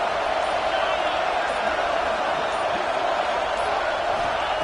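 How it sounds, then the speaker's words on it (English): A college football stadium crowd roars as a steady, dense wash of noise through the whole stretch, loud and continuous. "It's early, but this crowd is fired up."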